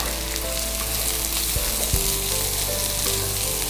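Finely chopped onions fry in a pan with a loud, steady, dense sizzle throughout, plus a couple of brief low knocks from stirring partway through.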